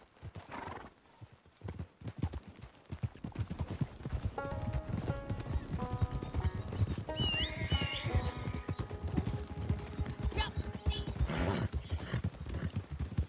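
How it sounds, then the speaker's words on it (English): Horse hooves clip-clop steadily in Red Dead Redemption 2, with a clear whinny partway through and game music rising underneath the rhythmic hoofbeats. "That's why I took my horse."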